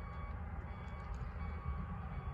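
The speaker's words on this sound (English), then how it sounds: "And there's a train." A freight train rumbles past at a Lake Avenue crossing in Blasdell, New York, a steady low roar of rolling cars with a faint tonal hum, continuous and unbroken.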